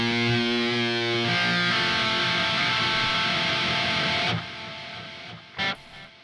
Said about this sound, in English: There's a new delay, a circular delay.